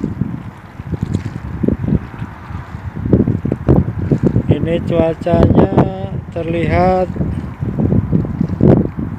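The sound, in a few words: wind blowing on a river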